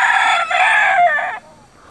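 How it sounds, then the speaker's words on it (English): A rooster at Waimea Canyon, Hawaii, crows loudly and close by in one long drawn-out call lasting over a second, trailing off into quiet outdoor air. "here we have the Waimea Canyon Rooster, it's the mascot of the canyon."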